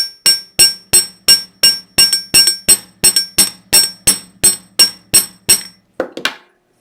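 Rapid, evenly spaced metallic hammer taps flattening jewelry wire, about twenty sharp ringing strikes close up, ending with a softer clink and rustle.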